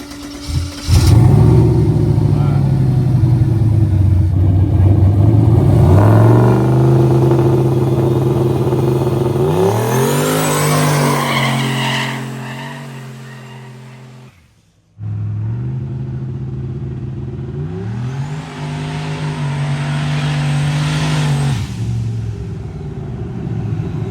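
A Ford Mustang that runs rich or lean at idle cranks and catches, then its engine revs up and down in loud close surges, cuts out briefly, and restarts into a rough rumbling idle with more revving.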